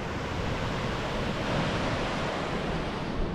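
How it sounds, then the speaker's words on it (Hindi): Waterfall along the Kalga to Kheerganga trekking trail, a steady broadband rush of falling water heard close and loud, with no talk over it. "पीछे मेरे एक झरना बना"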